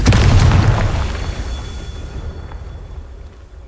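A Confringo blasting spell detonating in Hogwarts Legacy, a loud deep boom that bursts at once and then rumbles and fades over a few seconds.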